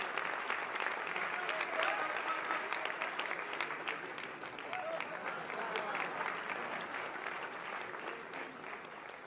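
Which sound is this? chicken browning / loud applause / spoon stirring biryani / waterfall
loud applause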